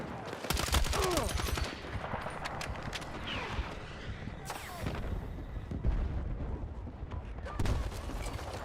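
Grenade blasts and gunfire in Battlefield 6, a loud crack near the start followed by repeated sharp bursts and booms every second or two over a continuous battlefield rumble.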